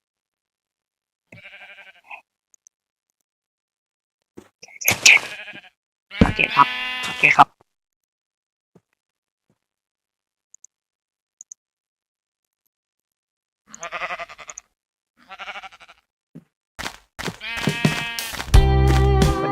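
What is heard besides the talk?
sheep bleating in the video game Minecraft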